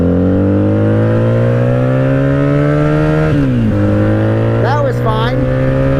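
A 1997 Honda Magna VF750C, running on bad fuel in the carbs, pulls on a highway in first gear; its steady droning engine note climbs slowly, dips briefly at a gear change, then drones on as a rider briefly speaks.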